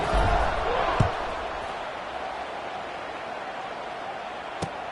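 Broad, steady roar of a stadium crowd in a football video game, building just before the kickoff, with a couple of sharp thuds over the constant wash of noise.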